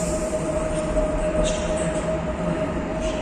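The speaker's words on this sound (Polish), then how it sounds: "będą odczepiać dwa pudła, które jedą relacji Berlin-Przemyśl" Railway cars on a Berlin–Przemyśl train are uncoupled and shunted. A steady, low rumble of rail equipment carries a constant tonal hum with faint metallic clanks and squeals in the distance, and no voices are heard.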